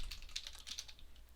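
Java code being typed on a computer keyboard: a quick, uneven run of soft key clicks, moderately close and fairly quiet, with no voices.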